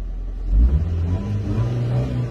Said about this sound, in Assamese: ইঞ্জিনৰ চাউণ্ডটো শুনকচোন